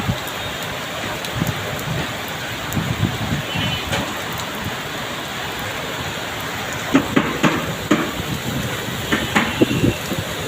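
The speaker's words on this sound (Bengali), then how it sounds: "প্রচণ্ড পরিমাণে বৃষ্টি হচ্ছে।" Heavy rain pours steadily during a downpour in Dhaka, a dense continuous hiss with sharper patters and splashes growing louder near the end, no voices.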